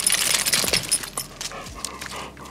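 A dog pants in steady, rapid breaths close by during a quiet outdoor sit, with a few faint rustles and no talking.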